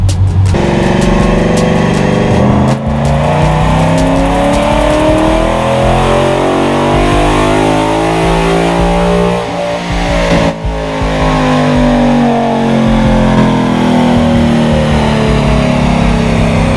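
A car engine revs hard and steadily on a dyno with an E85 tune, its loud sustained roar rising and falling in pitch across a long continuous pull.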